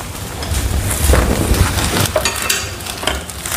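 Sabudana being stirred and mixed in a hot pan for sabudana khichdi, a steady close scraping and soft sizzle that rises and falls through a few seconds.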